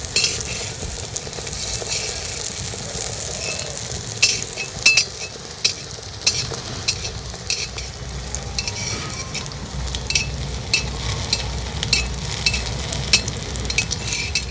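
Continuous sizzling of food frying in a pan, with occasional scraping and clinks of a utensil stirring, close and steady, no voices.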